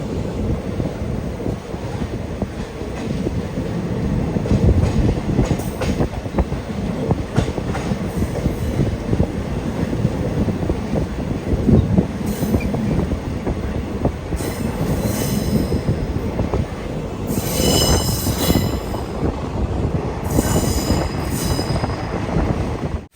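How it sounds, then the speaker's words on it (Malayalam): A passenger train on the Kollam to Thiruvananthapuram line rumbles along continuously, heard from the rear coach nearing Eravipuram station, with steady wheel noise, wind buffeting the microphone and occasional high wheel squeals. "ട്രെയിൻ ഇപ്പോൾ ഇരവിപുരം റെയിൽവേ സ്റ്റേഷനിലേക്ക് എത്തിയിരിക്കുകയാണ്"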